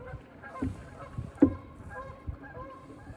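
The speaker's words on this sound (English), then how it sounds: "You can hear those geese off there taking off." Distant geese honking in scattered calls as they take off, with one louder honk standing out over a low outdoor background on the Wabash River.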